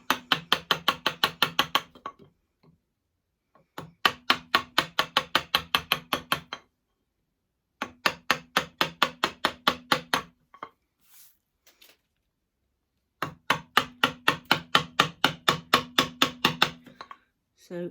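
A mallet strikes a chisel to chop the waste from a halving joint in wood, sounding as four runs of quick, evenly spaced knocks, close and crisp, separated by short silences.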